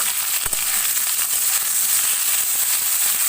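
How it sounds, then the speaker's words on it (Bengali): Bitter gourd and potato fry in a pan with a steady, dense sizzle that holds evenly throughout, broken by one sharp pop near the start. "এই দেখো বন্ধুরা উচ্ছে আলু ভাজা হচ্ছে দেখতেই পাচ্ছ"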